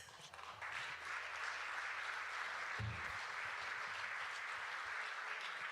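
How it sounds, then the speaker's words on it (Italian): Audience at a Christmas folk concert in Tortolì giving sustained, even applause that swells in after a quiet start and stays level, heard from a distance and fairly soft. "Dopo l'applauso."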